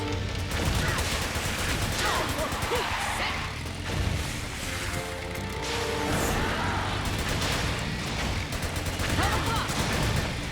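Gunfire in the video game Metal Gear Solid 4 crackles in dense, rapid bursts with mechanical clatter and game effects, continuous and fairly loud, while someone talks over it.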